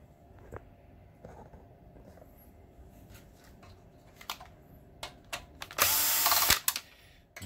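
A power screwdriver backs out non-magnetic-looking machine screws from the main board of a BenQ HT2050 projector during a teardown. Small clicks and handling noises lead to one loud whirring burst near the end, with no talk.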